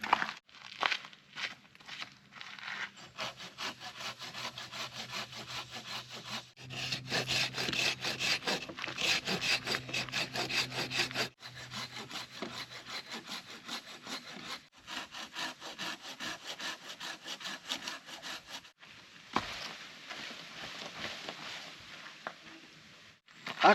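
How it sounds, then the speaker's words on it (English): A hand saw rasps steadily through the trunk of a fallen tree across a road outdoors, with long rhythmic back-and-forth strokes, brief pauses to reposition, and occasional crunching and footsteps nearby. "I'm gonna have to get out my saw and cut this thing in order to proceed down this road."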